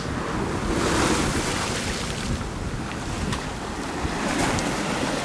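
Ocean waves surge and break against a sharp, rocky beach, a loud continuous wash of surf with rolling swells and some wind buffeting the microphone, no voices.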